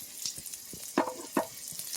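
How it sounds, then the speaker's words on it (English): Food sizzles and crackles steadily in a hot pan, with a couple of sharper spits standing out; no voices. "y'all see it sizzling?"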